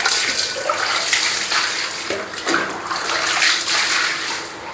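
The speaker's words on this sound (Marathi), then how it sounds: "बादली भरले" Water from a tap pouring into a bucket, a loud, steady gushing splash heard up close, with the tone shifting slightly as the water level rises.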